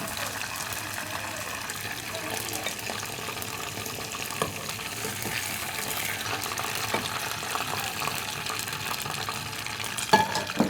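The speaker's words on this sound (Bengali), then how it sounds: "নেক্সট সেম প্রসেসে আমরা বাকি চিকেনগুলো ভেজে নেব" Chicken deep fries in hot oil with a continuous loud sizzle and bubbling, steady throughout with occasional sharper crackles and stirring sounds near the end.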